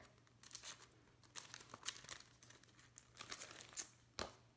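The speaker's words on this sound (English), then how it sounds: "Let me open up the card." A handmade card's paper envelope is opened close up, with bursts of crinkling and rustling paper, a few tearing sounds and a final sharp rip, quiet and with no talk.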